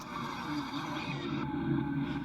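Recorded race car engine played back through a speaker, a steady droning roar with a brief squealing edge, running continuously without a break for a couple of seconds.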